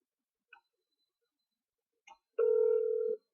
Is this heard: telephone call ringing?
yes